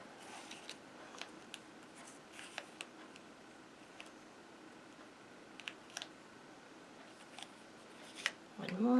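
Scissors snipping a paper strip into four pieces for a snow globe shaker card, faint sparse crisp cuts and clicks spaced irregularly across a quiet room, with a louder rustle at the close.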